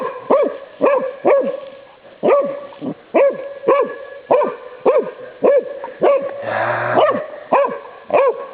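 A dog barks repeatedly in sharp, close bursts while searching for shed deer antlers, short groups of barks with brief pauses, loud and clear with little else around.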